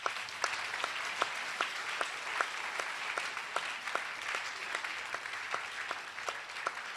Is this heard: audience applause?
yes